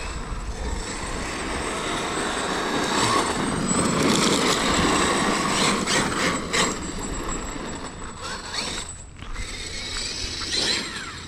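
A Traxxas X-Maxx RC monster truck on belted tires driving along a street, its electric motor giving a steady whirring hum with rising and falling pitch and some clatter, fairly faint and without talk.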